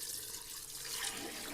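Water pours steadily into a pot of soaked rice for chicken biryani, a continuous close splashing rush with no voices.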